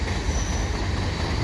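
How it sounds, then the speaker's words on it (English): The tail end of a CN freight train rolls past near Turcot Tunnel, a loud continuous rumble of rail cars with wheel squeal and roar, close and steady. "there's the end of the train. See there?"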